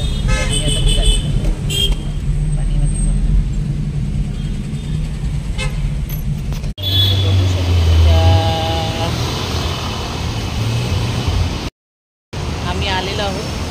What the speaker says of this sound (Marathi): गाडी चालवत आम्ही आता निघालेलो.